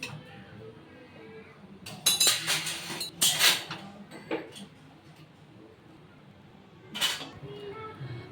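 Hilsa fish curry cooked in mustard oil is served onto a plate, with intermittent metallic clinks and scrapes of a spoon against the pan and dish in a few short, fairly close bursts over a quiet background.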